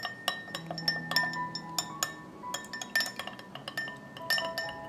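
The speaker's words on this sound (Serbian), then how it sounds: "Dodat ću kašičicu soli i promešat ću." A teaspoon stirs salt into about two decilitres of water in an ordinary drinking glass, giving repeated bright clinks and taps of metal against glass in an irregular rhythm, close and clear, with no voices.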